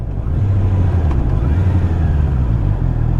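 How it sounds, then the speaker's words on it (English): Backed-up rush hour traffic in Edinburgh rumbles around a Honda CB650R motorcycle, a steady loud low engine drone with idling vehicles close by and no talk. "And as usual, the traffic's backed up again."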